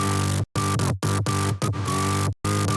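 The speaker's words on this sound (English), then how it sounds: "And then the second bass sound, which sounds like this," A synth bass line built from wavetables, a variation of an earlier bass patch, playing loud sustained notes in short phrases cut by brief silent gaps, alone and up front.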